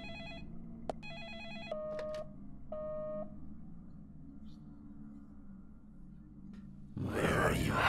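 A telephone in the Deadly Premonition video game rings with repeated electronic tone bursts and beeps, fairly faint and separated by short pauses, followed by a louder burst of broadband noise at the end.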